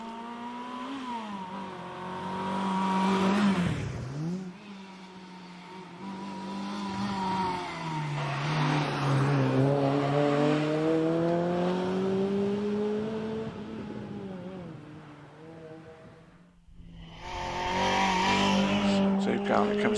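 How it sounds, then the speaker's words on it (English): A 2-litre Renault Clio racing up the Prescott hillclimb course in the British Hillclimb Championship. The engine revs hard, rising and falling through the gears, with a hint of tyre squeal, loud and close throughout. "that is car 20, David Garnett, in the 2-litre Clio"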